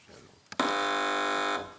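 A quiz show buzzer on a British panel show sounds one long, loud, steady electronic tone of about a second, after a brief click and some quiet room noise.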